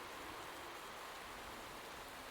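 Steady rain pours down on a race track in the Motorsport Manager game, a dense, even hiss of falling water that holds constant and fairly quiet throughout, with no voices over it.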